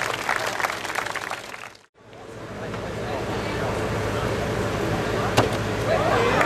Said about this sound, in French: Une bonne main d'applaudissement, mesdames et messieurs.